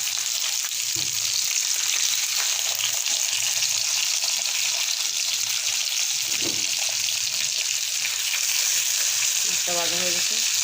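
Marinated fish frying in hot oil, coated in turmeric, ginger, garlic and chili paste, gives a steady close crackling sizzle throughout, with a few faint clinks of a utensil near the end.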